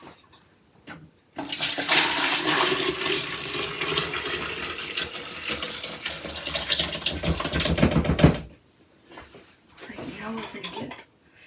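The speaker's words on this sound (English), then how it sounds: "I'm going to pour it into a pitcher" Liquid for canned white turkey chili is poured into a pitcher, a loud, continuous splashing and gurgling stream lasting several seconds with some clinks, then stopping abruptly before a brief softer sound.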